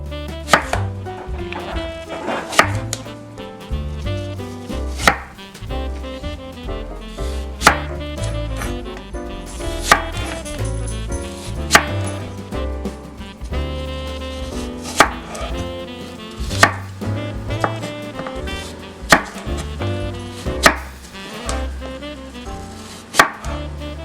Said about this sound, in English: we're gonna cut both green and red apples, and make sure to cut them like this